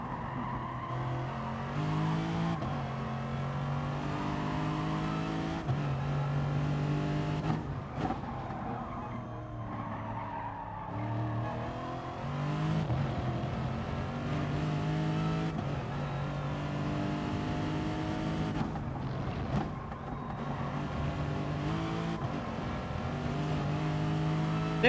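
Porsche race car engine in the GT Sport racing game, droning steadily for the whole stretch as it revs up and down through gear changes, with occasional tire noise and no talking.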